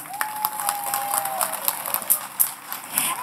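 Audience applause at a Bengali school or cultural program honoring young performers, a steady patter of many hands clapping close by with scattered sharper claps, with no talking.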